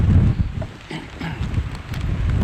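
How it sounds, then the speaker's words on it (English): Strong wind at Mammoth Lakes, California, buffets the microphone in a continuous low, rumbling roar that swells and eases, with no voices. "it is still really windy"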